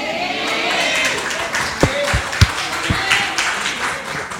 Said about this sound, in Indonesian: itu tadi tepuk tangan dong sekali lagi